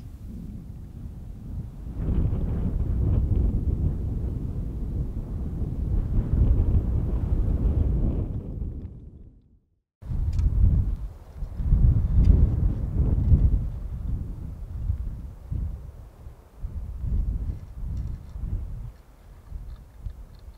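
Gusty wind buffets the microphone at an Eastern Sierras campsite, heavy low rumbling surges that swell and fade, with a brief drop to near silence midway.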